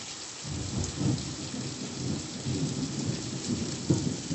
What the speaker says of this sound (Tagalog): Takot sa kulog.